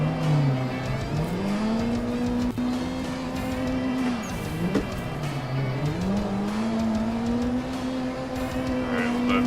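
A drift car in the racing game Assetto Corsa run at full turbo, its engine revving and wavering up and down in a loud continuous drone with faint tire noise.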